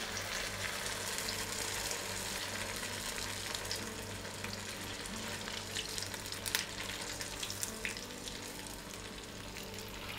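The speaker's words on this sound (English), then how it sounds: "Now we're going to put it for frying." Spicy Mexican rolls deep-frying in hot oil give a steady, dense sizzle and crackle that runs unbroken from start to finish, close and fairly loud, with no talking.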